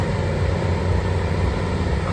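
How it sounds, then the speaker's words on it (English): A farm tractor engine at a 2022 farm round-up runs with a steady low rumble, holding an even level throughout with no talk over it. "The first tractor I've heard."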